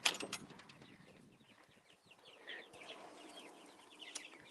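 Young silkie chicks chirp and peep in a farm coop, with soft scattered cheeps and a faint cluck nearby, fairly quiet throughout and with no talking.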